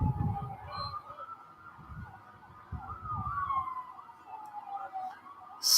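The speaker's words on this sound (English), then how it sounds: "Sirens coming down the road as I see an ambulance driving down Rockland Road right now." An ambulance siren wails along Rockland Road near a Sierra vs Sac City baseball game, its rising and falling tone carrying steadily from a moderate distance with faint crowd sounds beneath.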